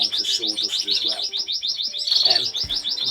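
Caged canaries chirp in rapid, repeated bursts of high twittering, steady and close throughout, with a brief low thump near the end.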